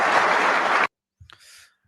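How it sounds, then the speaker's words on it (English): Audience applause for Netanyahu: a dense, loud wash of clapping that stops abruptly after under a second, followed by silence and a few faint, brief scraps of sound. "And he got a massive applause for that"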